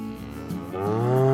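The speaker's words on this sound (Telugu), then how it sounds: "ఇది మా ఆవు అరుస్తున్న శబ్దం కదా" A village cow moos near and loud, a single long rising call that swells toward the end, with no voices present.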